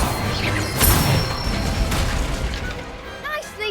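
The Incendio fire spell cast in Hogwarts Legacy, a loud whooshing burst near the one-second mark followed by a rumbling, crackling fire tail, with game voices speaking over it.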